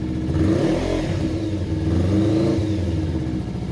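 A Kawasaki Ninja 300 motorcycle engine runs close and loud just after an oil change, a continuous mid-pitched drone that swells briefly as it is revved.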